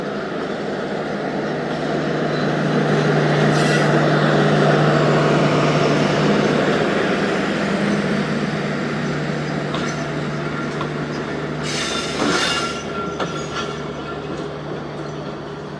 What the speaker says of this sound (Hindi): और फिर ट्रेन रवाना हो जाएगी हमारी